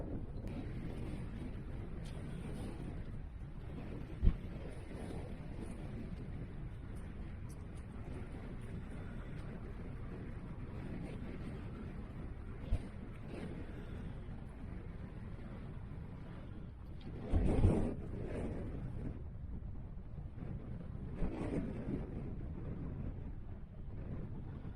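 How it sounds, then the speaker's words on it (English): Cold wind blowing across open high moorland by the stone circles near Brown Willie in Cornwall, a steady low rumbling buffet against the microphone with a few brief gusts and knocks, no talking. "Oh, it's a bitter cold wind up here."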